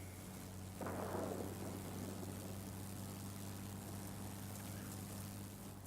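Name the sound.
Yak-3 propeller aircraft engine in World of Warplanes video game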